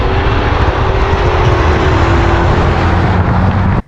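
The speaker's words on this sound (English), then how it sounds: "You do have to wind it out, but it's a big block V8." A 2020 Ford F-250 Tremor's 7.3-litre big block V8 roars steadily at high revs while towing, a dense continuous drone that holds for nearly four seconds before cutting off abruptly.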